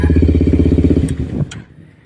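A Kawasaki Ninja 250 SL motorcycle with a long aftermarket exhaust idles with a deep, throbbing note, gives a short burst of revs, then cuts off abruptly.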